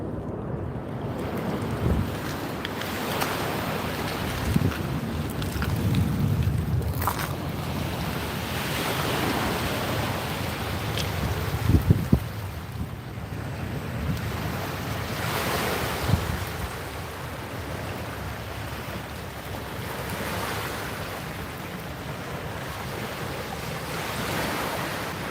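Wind and small waves on the River Thames foreshore at low tide, a steady outdoor wash with rushing gusts buffeting the microphone and occasional soft knocks, continuous and fairly loud throughout.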